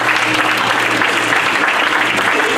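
A church congregation applauding and cheering to acclaim the Lord at a gospel service, a steady, dense wash of clapping that stays loud throughout with no pauses.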